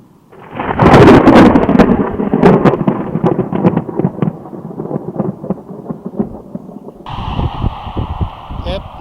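Deep thunder rumbles and crackles loudly through an Australian storm, rolling on for several seconds and fading, while a person speaks partway through.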